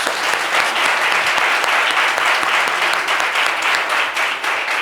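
A studio audience gives a guest on a French midday show a warm welcome, with dense, steady applause that stays loud and full for the whole stretch.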